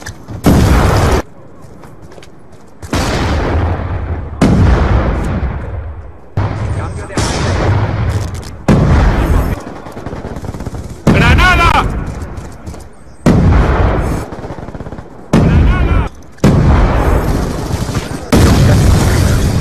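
Grenade blasts and gunfire in a Spanish-language shooter video game, loud booming bursts repeating through the stretch, mixed tightly with continuous excited shouting from players.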